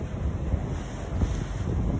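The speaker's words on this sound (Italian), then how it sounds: "il vento e la brezza delle onde è veramente molto forte." Strong wind buffets the microphone at the rough sea of Capo d'Orlando, Sicily, a loud continuous roar with crashing surf blended underneath and no voices.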